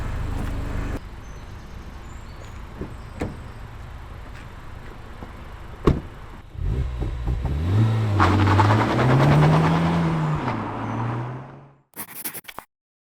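A Honda Civic Type R Sportline passes and pulls away, its engine note rising and climbing through the revs as it accelerates, loud and fairly close before cutting off abruptly.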